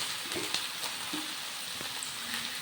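Ridge gourd shukto fries in a pan, a steady close sizzle broken by a few soft clinks and scrapes of stirring, with no voices.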